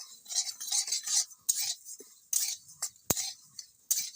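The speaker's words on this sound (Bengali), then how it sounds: "হালকা সামান্য একটু নাড়াচাড়া করে দেবো" A utensil scrapes and clinks against a wok while lentils are stirred in a village kitchen, brief irregular strokes with sharp metallic taps and quiet gaps between them.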